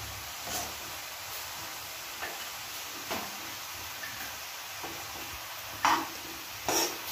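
A spoon stirs yam flower thoran in a pan, making faint, scattered scrapes and light taps against a quiet, low background hiss.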